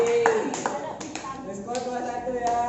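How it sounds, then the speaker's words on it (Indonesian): Classroom applause for a student group during a fifth-grade lesson, with scattered, uneven claps rising into a few louder bursts under children's voices and chatter nearby. "ini tepuk tangan untuk kelompok"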